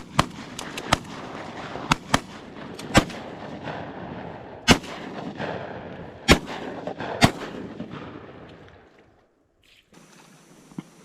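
Shotguns fire during a duck hunt from a blind in heavy fog, with about eight sharp, loud bangs spaced irregularly over several seconds, some in quick pairs, then a quieter stretch.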